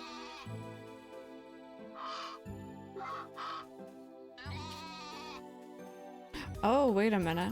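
Goat bleating in the farming video game Story of Seasons: A Wonderful Life, several loud, close, wavering bleats separated by short pauses, ending in a long trembling cry.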